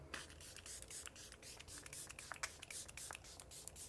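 Waterproof makeup setting spray, a Tier Mask Fit formula, misted onto the face in a series of short, close bursts, each a soft hiss over faint background noise.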